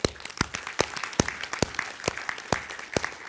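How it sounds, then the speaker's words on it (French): Congregation applauding in church during a baptism service, scattered loud individual claps over a background of lighter clapping, fairly close and irregular. "on peut applaudir"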